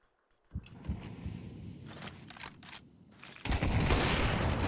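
Gunfire in a video game esports match: bursts of shots and rapid weapon fire, growing into dense, loud continuous shooting toward the end.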